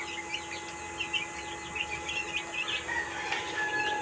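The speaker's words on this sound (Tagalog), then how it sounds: "Ito yung pagkain niya, iniwanan, sinisimot na ng mga sisiw." Chicks peck at leftover feed, their thin high peeps and chirps rising and falling steadily over a faint background hum, with no talking.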